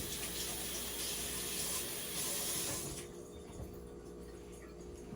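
Fruit being rinsed under a running kitchen tap, a soft steady hiss of flowing water that stops partway through, leaving quiet room noise.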